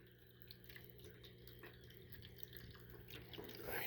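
Small dripping and wet lapping ticks from a pet drinking at a PetSafe water fountain, with steady water trickle and fountain hum underneath, soft and close, no talking.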